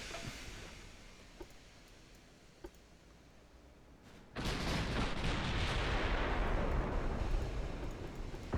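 Heavy naval gunfire in a warship battle from Ultimate Admiral: Dreadnoughts, with a few sharp distant reports followed by a sudden loud, sustained roar of blasts and rumble that carries on to the end.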